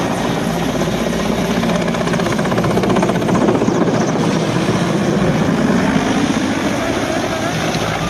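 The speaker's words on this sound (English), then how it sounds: "This helicopter in Mexico City crashed into the ground." Helicopter in Mexico City crashing into the ground, heard as a steady, loud rotor and engine roar with broadband noise that persists throughout without a distinct impact.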